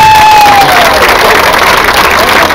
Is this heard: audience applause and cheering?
yes